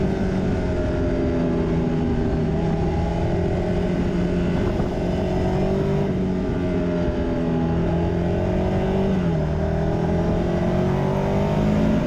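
A 2023 Ducati Scrambler 800 Next-Gen motorcycle engine runs loud and close for twelve seconds, its steady throb rising and falling in pitch as the revs shift.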